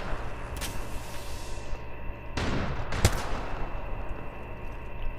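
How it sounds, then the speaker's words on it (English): Apex Legends gunfight with a few sharp gunshots and impacts, one loud crack mid-clip standing out over a constant rumble of background game noise. "Firing. 10 seconds to the range. Getting shot at."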